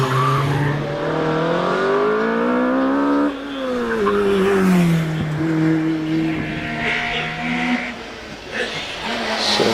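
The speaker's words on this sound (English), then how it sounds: "as Phil Tucker gets away in the Vauxhall Nova" A Vauxhall Nova hillclimb car accelerates hard away from the line at Prescott, its engine note rising, dropping at a gear change and climbing again, loud and fairly close, with crowd and ambient noise around.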